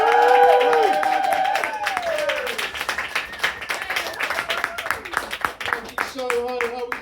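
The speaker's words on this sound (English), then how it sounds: "let's get that big round of applause, let's keep it going!" Clapping and cheering from a comedy gig crowd rise at the start and then thin out while an MC's voice carries over it, with scattered claps continuing under the talk.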